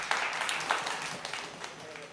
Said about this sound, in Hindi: मैं चाहता हूं एक जोरदार तालियों से आज के इस दीप प्रज्वलन को आप आगे बढ़ाएं